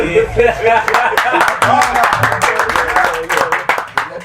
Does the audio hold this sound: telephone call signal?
no